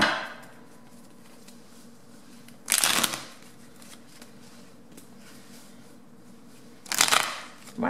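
A deck of tarot cards being shuffled in two short, crisp riffling bursts separated by several seconds of quiet room tone.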